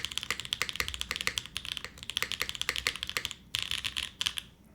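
Rapid clacky keystrokes on a Luminkey80 Glacier Edition mechanical keyboard, typed in quick uneven bursts with a brief pause near the end, close and crisp with no voice.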